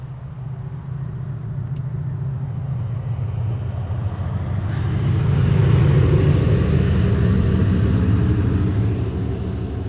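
A Volvo 750 truck, coming in from Lyons at night, approaches and passes, its deep engine rumble building to a loud peak around the middle and staying strong as it goes by, with no talking.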